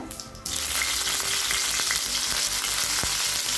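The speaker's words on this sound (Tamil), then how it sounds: "இப்போ சட்னியை தாளிச்சிடலாம்" Mustard seeds, urad dal and curry leaves hit hot oil in a kadai for a chutney tempering, bursting into a loud, dense sizzle after a quieter start, with a few sharp pops and crackles and no talk.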